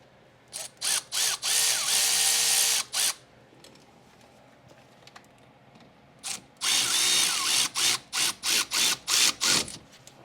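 A power tool tightens front brake caliper bolts on a Nissan X-Trail T30: two loud, close bursts of sharp ratcheting hammering, each broken into short repeated pulses, separated by a few seconds of near silence.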